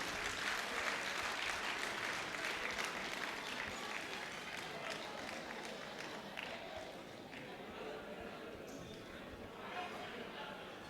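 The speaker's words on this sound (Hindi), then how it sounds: "एक जोरदार तालियां सभी मित्रों के लिए" A convention audience claps in strong, sustained applause, a dense crackle of many hands that fades slightly toward the end with voices mixed underneath.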